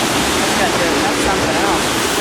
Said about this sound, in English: A nice little waterfall.